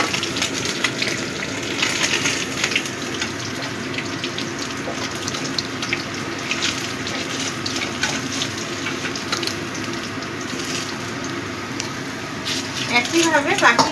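Small mourola fish fry in oil with a continuous hiss and crackle, joined by running-water-like wash and faint clatter, with a brief sharper sputter near the end.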